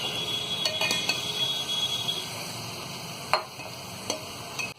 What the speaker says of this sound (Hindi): तो यहाँ चिकन को भी हमने 2 से 3 मिनट भून लिया है।